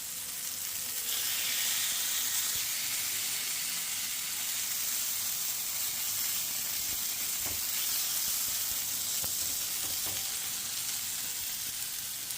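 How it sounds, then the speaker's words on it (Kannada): Food frying on a tawa over a medium flame gives a steady, close sizzle and hiss that runs unbroken throughout, with faint stirring clicks and no voices. "ತವಾದಲ್ಲಿ ಹಾಕ್ಕೊಂಡು ಮೀಡಿಯಮ್ ಫ್ಲೇಮಲ್ಲಿ ಫ್ರೈ ಮಾಡಬೇಕು."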